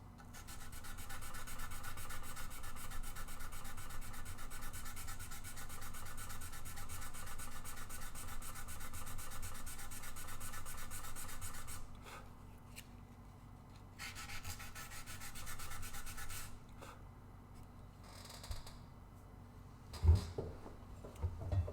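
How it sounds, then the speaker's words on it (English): Continuous rhythmic rubbing of sandpaper on an epoxy-filled wooden guitar body, steady for several seconds, then pausing and resuming in shorter strokes with a few knocks near the end. "So much sanding."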